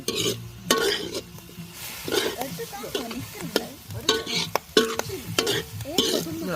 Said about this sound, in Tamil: பொரிக்குதுடாப்பா வடிக்குது.